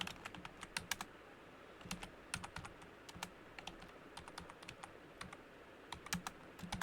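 Someone types code into Visual FoxPro on a computer keyboard, giving quiet, close, irregular clusters of key clicks and taps with short pauses and no talk.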